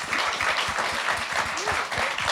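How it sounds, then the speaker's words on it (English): Conference audience applauding after a panel on technology, creativity and music, a dense, steady wash of many hands clapping close and loud for a couple of seconds, with a faint voice underneath. "Round of applause, please, ladies and gentlemen."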